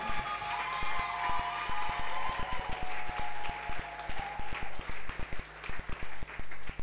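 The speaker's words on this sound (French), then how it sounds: "Je voudrais qu'on acclame pour lui et qu'on acclame également pour mon pasteur résident" A church congregation applauds the preacher, a dense, lively wash of clapping that breaks into rhythmic unison beats as it goes on, with faint voices beneath.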